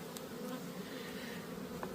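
Honeybees drone continuously around small nucleus colony hives, a dense, close buzzing swarm that holds steady throughout with no voices.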